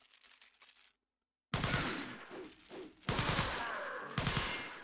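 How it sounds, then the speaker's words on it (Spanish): Gunfire in the Resident Evil 4 video game, Life In Hell mod: after a brief silence, loud rapid bursts of shots crackle in quick clusters, close and sharp. "Eso no son tiros bien aprovechados"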